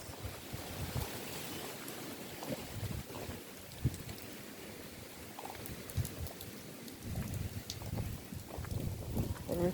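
Hurricane Beryl winds blowing hard across a property in Grand Cayman, a continuous roaring gusty rush with buffeting on the microphone that swells and eases through the whole stretch.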